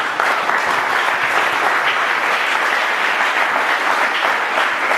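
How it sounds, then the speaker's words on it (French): Church congregation applauding and acclaiming the Lord at a worship service, with steady, dense clapping that carries on unbroken and loud throughout. "Acclame encore le Seigneur pour la parole."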